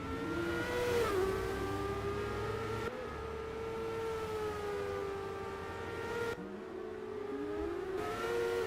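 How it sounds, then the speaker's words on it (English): A race car with a Formula Student exhaust in a racing video game at Spa Petit-Champs drones and revs continuously, its pitch rising and falling through gear changes, with abrupt cuts as the car heads downhill. "Now headed down to Ruxell, lighting up the backfire."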